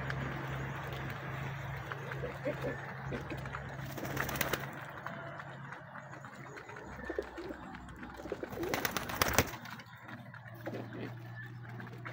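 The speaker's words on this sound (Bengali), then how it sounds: "তো এই যে কবুতরটা দেখছেন" Pigeons coo softly in a loft, low throaty calls repeating under a steady background hum, with occasional louder rustles and bumps nearby.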